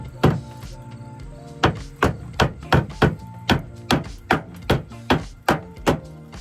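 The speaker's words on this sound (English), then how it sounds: "Okay, need a hammer for that." Sharp metallic hammer blows from a small homemade trim hammer striking bodywork, about a dozen evenly spaced whacks after a brief first hit, close and loud with no talking.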